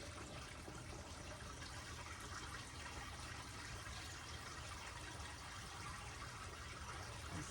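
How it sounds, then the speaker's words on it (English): Water poured into a Greenstalk vertical planter trickles and seeps down through its tiers, a soft, continuous wash of faint splashing and dribbling heard close and quiet. "Oh, and I'm pouring water all over myself because this one is really full."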